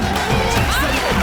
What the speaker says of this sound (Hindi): जोरदार तालियां जैमी के लिए।